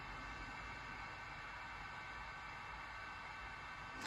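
A small Sharper Image portable HEPA car air purifier fan whirs steadily with an even, breathy hiss, unchanging throughout and briefly swelling at the very end.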